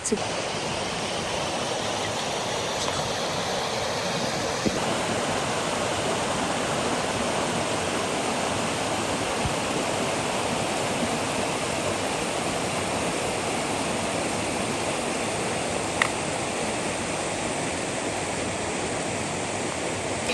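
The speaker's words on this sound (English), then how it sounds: "now that it's raining, it seems like there's more water flowing, so you can actually hear the river coming down" Steady, full rush of a river swollen by rain at Baekdamsa temple in Seoraksan, a continuous broadband roar of flowing water that stays even and close throughout, with no talk.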